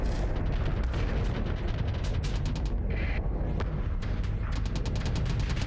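Weapons and missile fire boom and crack repeatedly in a Starsector space battle between carrier fleets. Dense, rapid impacts and blasts follow one another over a constant rumbling background.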